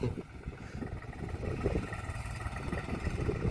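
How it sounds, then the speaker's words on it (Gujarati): A Swraj tractor engine chugs and rumbles steadily close by while tilling farmland, a low continuous drone with no speech. "તમે ટ્રેક્ટરની સ્વરાજ ટ્રેક્ટરની તાકાતની લાઈવ દ્રશ્ય જુઓ છો"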